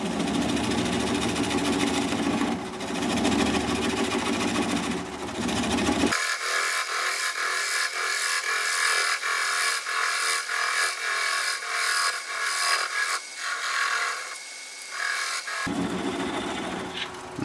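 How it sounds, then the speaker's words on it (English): A swept-back bowl gouge cuts burl apple wood spinning on a lathe at low speed, a steady scraping, rasping hiss that runs without a break for many seconds, alone and close. "I'm going to switch to a swept back bowl gouge so that I can get in there closer"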